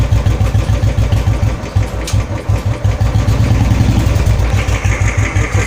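A Royal Enfield Bullet motorcycle idles steadily just after starting, its single-cylinder engine giving a close, regular low thumping pulse that runs throughout with no pauses.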